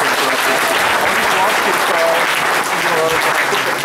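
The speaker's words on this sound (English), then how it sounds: "Let's get a big round of applause for Frank Scho," A conference audience applauding a speaker, with dense, steady clapping from many hands filling the room from start to finish.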